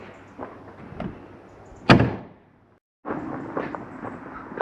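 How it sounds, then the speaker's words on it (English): A door swings shut with a single firm thud, followed by a brief moment of quiet before background movement and rustling resume. "I'll shut the door then, shall I?"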